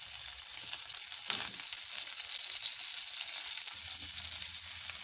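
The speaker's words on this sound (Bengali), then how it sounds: "আমি গরম তেলে একে একে মাছগুলো ছেড়ে দিচ্ছি" Fish pieces frying in hot refined sunflower oil in a pan, giving a steady, fairly soft sizzle with a brief louder crackle early on and no talking.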